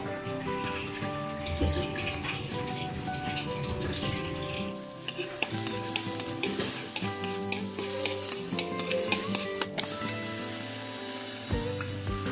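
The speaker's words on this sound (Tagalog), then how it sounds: "ngayon po ay magluluto na tayo ng sauce para sa ating spaghetti" Spaghetti sauce cooking in a pan, with steady sizzling and frying, stirring scrapes and some watery bubbling, alongside a faint tonal hum, close and continuous throughout.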